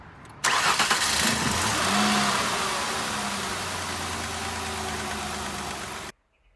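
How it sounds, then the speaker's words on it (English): A car engine cranks and catches right after a Seafoam treatment, settling into a steady, fairly loud idle for several seconds before cutting off abruptly. "All right, man, turn on the car."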